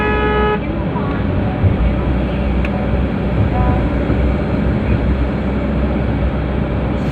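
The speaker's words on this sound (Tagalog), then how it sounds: "Tinapakan na yung silinyador. Ayan, bibilis ulit siya." A smoke-belching bus on the Bicol-to-Manila route revs as the accelerator is pressed, a loud sustained engine roar with a horn toot at the start, heard from on board.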